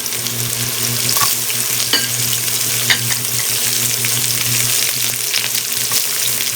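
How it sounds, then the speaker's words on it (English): Carrots stir-frying in hot sesame oil in a pan, a steady close sizzle and crackle with occasional scrapes and clicks of stirring, no talking. "I'm going to stir fry this for about 30 seconds"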